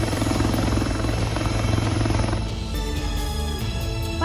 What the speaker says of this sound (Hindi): विदेशी कपल को बचाने के लिए सेना ने ALH स्वदेशी हेलीकॉप्टर का इस्तेमाल किया।